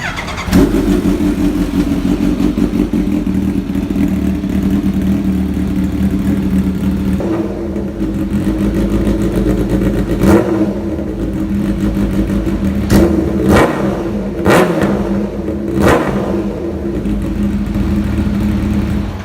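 A 228-horsepower motorcycle engine rumbles loudly up close, idling with a steady low roar and then giving several sharp rising revs in quick succession near the end, with no talk.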